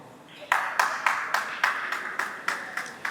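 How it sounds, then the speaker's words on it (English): An audience at an award ceremony applauds a prize winner with sharp, evenly spaced claps, roughly ten in a row that start after a short quiet pause and ring out loud in a reverberant hall. "Please clap for her."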